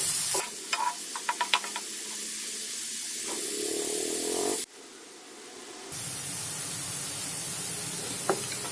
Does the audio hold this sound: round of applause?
no